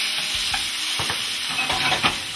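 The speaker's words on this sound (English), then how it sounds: "we take a large saute pan, a little bit of olive oil, and we're going to brown a touch of chopped garlic" About a teaspoon of chopped garlic sizzles loudly in a little olive oil in a large sauté pan, with a steady frying hiss and a few stirring scrapes and taps.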